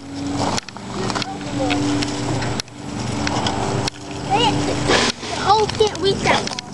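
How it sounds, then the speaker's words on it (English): Water from a hose splashes and sprays across a backyard slide, a busy, uneven wash of splatter with loud voices talking and shouting over it. "soak that slide with water"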